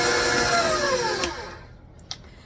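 An electric mixer blending lemon coconut cake batter whirs steadily at first, then its pitch slides downward as the motor winds down and goes quiet, with a faint knock near the end.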